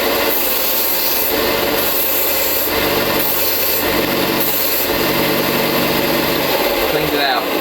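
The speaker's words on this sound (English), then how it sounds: "It's basically an eraser for your belt sanders and stuff." A sanding belt eraser pressed against a running belt sander gives a loud, steady rubbing rasp over the motor's drone, rising and falling in a few long strokes, close by.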